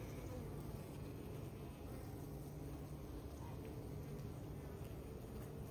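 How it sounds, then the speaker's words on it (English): Honeybees shaken off a brood frame from a colony that has absconded: a low, continuous droning buzz of many bees, steady and muffled, with a faint constant hum beneath and no speech. "I'll just shake all these bees out"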